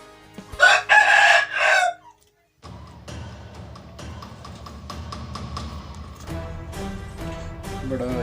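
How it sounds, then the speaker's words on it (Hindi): An Aseel rooster crows loudly and close by in two bursts early on. It then falls quiet while someone talks over low background noise. "बड़ा जशीला मुर्गा है"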